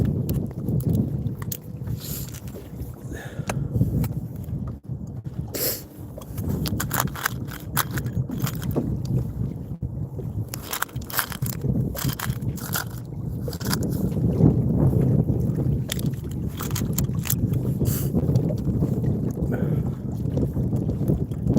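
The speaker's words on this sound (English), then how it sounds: "Yeah, it's bad out here, Carla. Super windy." Strong wind while fishing outdoors buffets the microphone in a continuous rumbling roar, with gusts swelling and sharp crackling bursts throughout.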